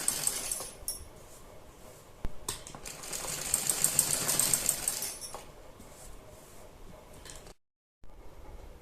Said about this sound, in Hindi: दूसरी साइड भी हमें इसी तरह से सिलाई लगानी है।